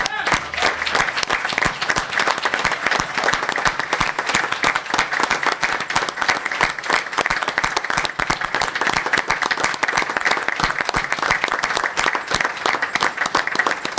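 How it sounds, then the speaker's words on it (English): An audience at a city council proclamation honoring a Tuskegee Airmen brigadier general breaks into sustained, dense applause that stays loud and even throughout, with a few voices mixed in. "Please join me in giving a rounding sound of applause to General McGee."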